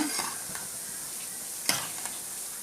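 Kara boondi fries in hot oil, giving a steady close sizzle with a few brief stirring clicks and pops over it, with no talk.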